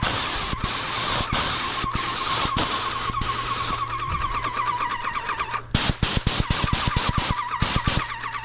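A paint spray gun hisses loudly and steadily for a few seconds, then gives way to rapid rhythmic clacking pulses.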